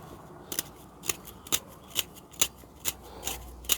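A carpenter's pencil sharpener shaves wood into tinder with about eight evenly spaced, crisp scraping strokes, close up and steady, over a quiet background.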